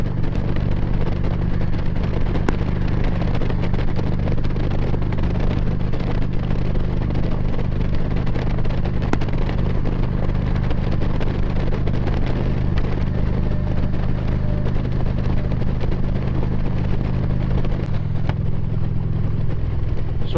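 A Porsche 944 rides over road joints and bumps, with a steady low engine and road drone inside the cabin and faint knocks scattered through it, the engine tone shifting near the end.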